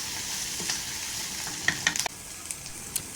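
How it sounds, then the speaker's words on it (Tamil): Ginger and chopped vegetables sauté in a pan for a Chettinad-style kadai rice with prawns, egg and cheese, giving a constant close frying hiss with a few scraping stirs and light clinks near the end. "போட்டு நல்லா வதக்கிடலாங்க எல்லாத்தையும்."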